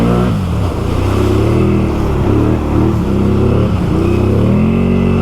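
A 2020 Can-Am Outlander XMR ATV with a swapped-in 850 engine roars steadily while being ridden, loud and close, its engine pitch rising and falling as the throttle varies.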